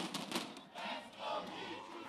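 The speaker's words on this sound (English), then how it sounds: "I love the Brazilian crowd, man." A Brazilian esports crowd roars and chants in rhythmic bursts, fairly faint and distant, with swelling waves of cheering.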